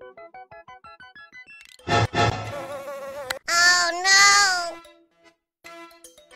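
Houseflies buzz in a comedic Hindi skit about tea, a whiny, wavering drone in short pulses that swells into louder, harsher bursts midway and then thins out. There is no talking.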